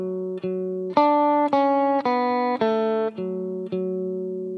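Electric guitar plays the opening phrase of a folk dance tune in three-eight time, a run of clean sustained notes stepping down the scale, each picked note ringing clearly into the next, alone and fairly loud.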